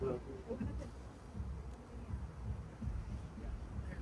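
Honey bees buzzing around an open hive during a beekeeper's inspection, a faint, steady hum close by with quiet voices talking over it.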